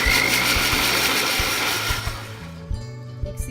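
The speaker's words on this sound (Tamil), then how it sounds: "இதை மிக்சியில் போட்டு நல்லா மைய அரைச்சி எடுத்துக்கணும்" A mixer grinder whirs loudly through cooked, cooled pumpkin for soup, a dense steady roar that cuts off near the end, leaving a few faint knocks and low rumbles.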